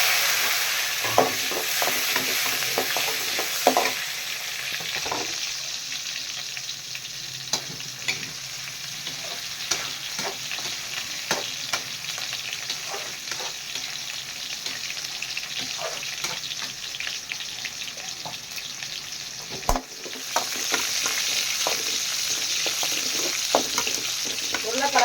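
Potatoes and onion with fennel seeds fry in a pan, a continuous close sizzle broken by scraping spoon strokes as they are stirred throughout.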